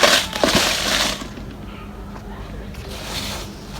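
Sun-dried spices crunch crisply as they are handled, with a short burst of dry crackling near the start before settling into a quieter, steady background.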